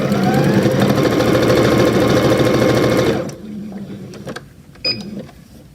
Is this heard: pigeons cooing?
no